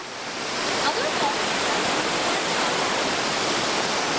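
Waterfall at Samıkale near Erzurum roars as a steady, broadband rush of falling water, loud and continuous, with faint voices barely audible beneath it.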